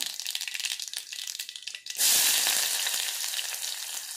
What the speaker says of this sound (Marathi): इथे आपल्याला गुलाबी कलर येईपर्यंत हा कांदा आपल्याला इथे फ्राय करून घ्यायचा आहे